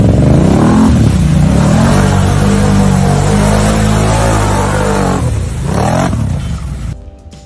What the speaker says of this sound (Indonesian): Ada ATV berwarna